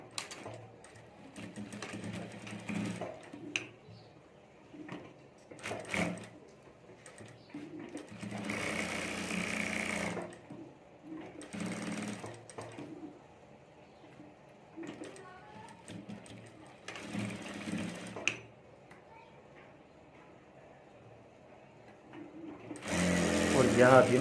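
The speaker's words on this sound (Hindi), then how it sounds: "यहाँ से हमें जिप के ऊपर सिलाई कर देनी है" Sewing machine stitching along the zip of a handmade fabric bag in repeated bursts of rapid mechanical whirring, with quiet pauses between runs and a person talking softly in the gaps.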